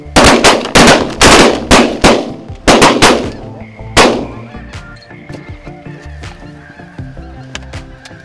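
Shotgun blasts fired at snow geese during a conservation-season hunt: a rapid volley of about ten loud, close shots over honking geese, then the flock's calls continue on their own.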